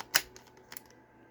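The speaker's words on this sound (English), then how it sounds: "to take a picture, you will cock the shutter button right here" A Polaroid Automatic Land Camera 210 has its shutter cocked: one sharp mechanical click, then a softer second click a moment later, close and alone in a quiet room.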